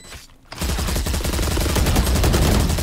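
After a brief quiet moment, sustained loud rapid gunfire erupts in a multiplayer shooter game, dense bursts of shots overlapping continuously until the end.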